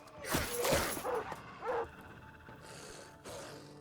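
Dog attacked in the Battle Brothers video game: a few sharp yelping and whimpering cries with impact hits in the first two seconds, then quieter combat noise fading out.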